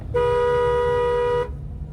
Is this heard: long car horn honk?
yes